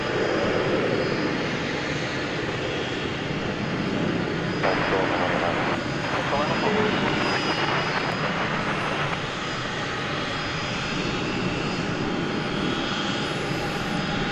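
A jet airliner roars loudly and steadily at DFW Airport, its engine noise filling the whole stretch with a constant broadband rumble and hiss, while voices are faintly present underneath.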